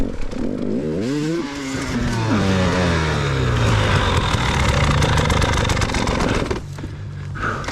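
A dirt bike engine revs and bogs loudly during a hare scramble race in the woods, its pitch sweeping up and down, with scraping and thrashing around a crash near the end and a voice talking over it.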